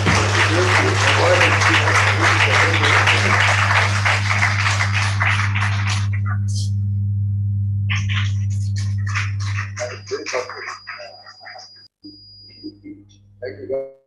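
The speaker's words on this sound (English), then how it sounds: "A big round of applause, please." A crowd at a foundation day celebration claps loudly and steadily for about ten seconds over a low hum, then the clapping thins to a few scattered claps and dies away.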